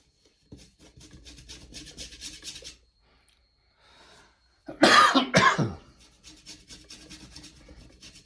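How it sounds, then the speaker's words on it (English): A person coughs twice in quick succession, loud and close, during a quiet oil painting session, framed by soft scratchy rubbing and brushing of paint on a small wooden panel. "Sorry about me coughing."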